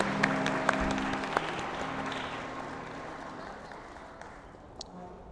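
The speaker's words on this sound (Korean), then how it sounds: "큰 박수로 답례해 주시면 감사하겠습니다" Wedding guests applaud at a ceremony in a hall, a steady spread of claps at moderate distance that slowly thins out over several seconds, with a few sharper individual claps standing out near the start.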